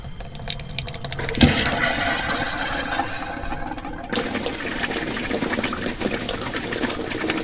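Water running steadily into a motorhome's fresh water tank, a continuous close splashing rush with a brief bump partway through, no speech.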